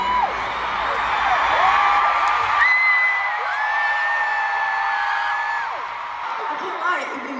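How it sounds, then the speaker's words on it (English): A huge stadium crowd at Taylor Swift's Eras Tour roars and whoops in a sustained wall of cheering, with drawn-out shouts rising and falling. "just looking out at this stunning, magnificent crowd"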